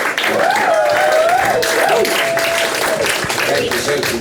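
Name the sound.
audience applause at comedy show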